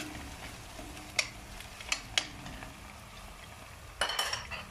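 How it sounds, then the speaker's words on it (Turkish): Onions and green peppers fry softly in a pan, a steady low sizzle broken by a few sharp utensil clinks and scrapes, with a busier clatter of stirring near the end. "İyice örüşen soğan ve yeşil biberin üzerine semizotumuzu döküyorum"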